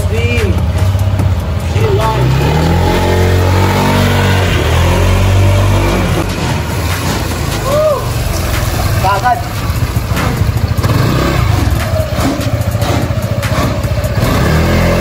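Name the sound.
Honda PCX 160 scooter engine running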